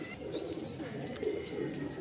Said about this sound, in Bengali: নতুন লোক দেখে এরা প্রচণ্ড চমকাচ্ছে আর কি পায়রাগুলো